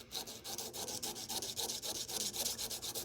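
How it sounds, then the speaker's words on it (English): Fast back-and-forth sanding strokes with a 220-grit sanding block shaping the feet of agate stripping guides, close and even in rhythm, a continuous raspy rubbing with no talking. "Now we're going to shape the feet using 220 grit sanding block."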